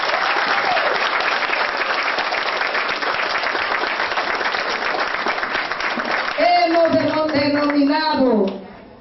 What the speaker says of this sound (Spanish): pedimos que ustedes mismos se feliciten con un fuerte aplauso